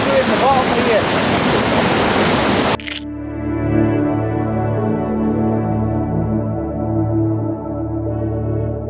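Waterfall at High Gelt, with water striking a log, makes a steady, loud rushing roar for about three seconds before cutting abruptly to sustained tonal music.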